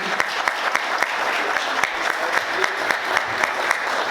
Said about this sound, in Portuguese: Quantos podem aplaudir o Senhor?